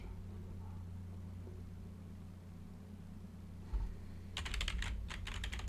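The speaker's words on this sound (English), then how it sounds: "I'm not typing right now. I'm just now doing that to joke with you, Shannon." A computer keyboard is typed on in a brief, rapid burst of clicks near the end, over a steady low hum. Before that there is only quiet room tone.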